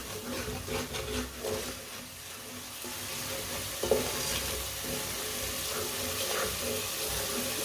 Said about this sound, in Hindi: 1 मिनट के लिए मसालों को पका लेंगे।